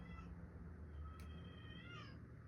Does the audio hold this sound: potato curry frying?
no